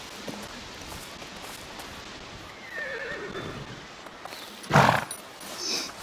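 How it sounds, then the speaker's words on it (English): A horse whinnies sharply over a steady outdoor ambience in the video game A Plague Tale: Requiem, with faint hoof clops and animal noises nearby. "Yeah, I see the horses."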